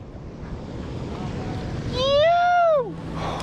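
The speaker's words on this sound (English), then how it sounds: "Look at these waves, dude." Ocean waves and wind heard from a kayak at sea off New Zealand, a steady rushing wash of surf and wind noise, joined partway through by a voice speaking briefly over it.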